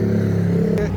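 Steady street traffic rumble in Anambra with a low engine drone, close and continuous, a brief brighter swell near the end.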